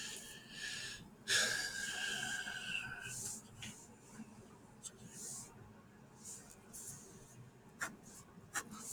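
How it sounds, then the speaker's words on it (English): Pen scratching across paper while annotating a printed essay during a cold read: quiet, close scribbling strokes with small taps and breathing, no talk. "So I'm going to write that down here."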